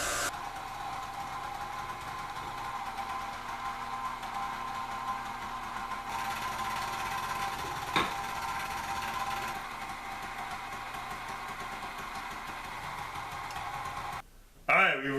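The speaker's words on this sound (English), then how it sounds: "So, I'm going to grind the rest of this." Grinder running through beef fat for making tallow: a steady, droning motor hum lasting over ten seconds with a brief clunk midway, then cutting out near the end.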